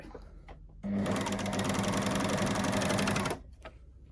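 A sewing machine stitches a fabric seam for a bottle gift bag, one steady burst of rapid, even stitching lasting a few seconds, close and clear, with quiet moments before and after.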